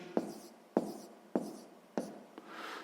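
Chalk or marker strokes on a board while working a sixth-grade math exercise: four sharp, evenly spaced taps-and-scrapes roughly every 0.6 seconds, close and moderately loud, ending in a softer longer stroke, with no talking.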